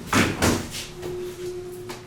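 A KONE/Otis elevator door slides along its track with a couple of quick, close thuds and rolling rumbles followed by a faint sustained hum; no talk is heard.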